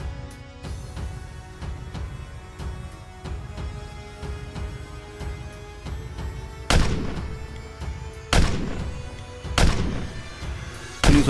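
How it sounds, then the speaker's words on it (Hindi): Cartoon gunfire from a police officer shooting repeatedly at a horror villain, several loud sharp shots ringing out over a tense musical score, with the blasts growing heavier toward the end. "पुलिस ऑफिसर लगातार उसके ऊपर शूट कर रहा होता है"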